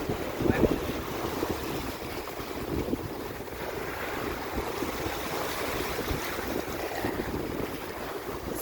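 Ocean rollers following behind a boat at sea near Eleuthera in the Bahamas: a continuous wash of waves and hull noise mixed with heavy wind buffeting on the microphone, near and steady throughout.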